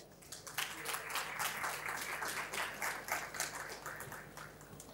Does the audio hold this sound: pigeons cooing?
no